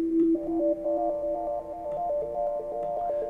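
Software plays a sustained pure tone, the third of a chord, a steady sine-like note with a related higher tone stepping in and out, even and moderately quiet throughout with no talk.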